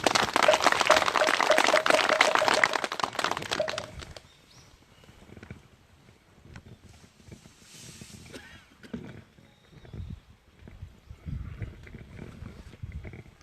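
Audience applause at a Buddhist dharma ceremony for a monk-poet, dense loud clapping for about four seconds that then stops abruptly, followed by faint room murmur and shuffling.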